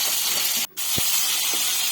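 Steady, loud hiss of ribbonfish sizzling in hot oil in a wok, broken by a short pause near the middle, then continuing evenly.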